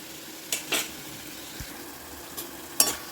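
Onions and tomatoes sauté in a pan with salt for a Chettinad side dish, a quiet sizzle broken by a few short scrapes and clinks of a stirring spoon.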